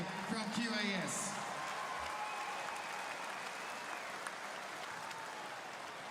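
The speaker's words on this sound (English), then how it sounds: "could you please give a huge round of applause to Luke and Sky" A basketball arena crowd applauds two guests at a professional game, a faint, distant wash of clapping that carries on steadily, with a brief voice over the start.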